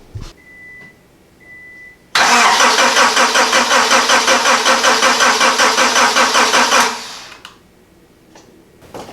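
Honda EF Civic engine cranking on a jump box: a loud, steady rhythmic starter churn of about four and a half seconds that does not catch, with quiet moments before and after.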